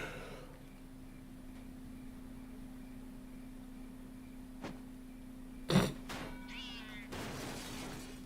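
A cat meows in the Katamari game, a short burst of mewing rising above a steady low electronic hum, followed by a second brief cry near the end.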